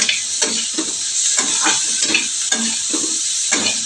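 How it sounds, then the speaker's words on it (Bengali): Vegetables for chowmein stir-fried in a hot pan, a loud close sizzle punctuated by rhythmic scraping and tossing strokes roughly every half second. "এবার নাড়াচাড়া করে নেবো ভেজে নেবো ভালো করে"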